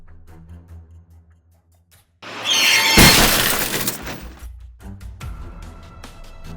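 A car crashes into a shop after running a red light: a sudden loud impact with a burst of shattering glass, followed by scattered tinkling debris and a lingering rumble.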